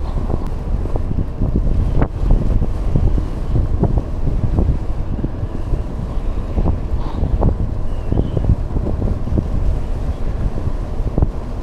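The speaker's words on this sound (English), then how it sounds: "Man, it's windy." Wind blowing hard across the microphone on an open-country bike ride past cattle ranches and cattle guards, a steady loud rumbling buffet with gusty bursts throughout.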